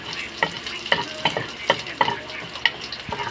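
Garlic, ginger and onion being sautéed in oil in a pan for a pork sotanghon soup, with a steady close sizzle and repeated sharp scrapes and stirring clinks of a utensil about twice a second.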